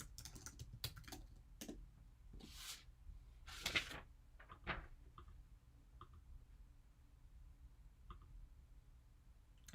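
A review being typed on a computer keyboard gives quiet, irregular keystroke clicks in small clusters with short gaps, close by and faint, with no talking.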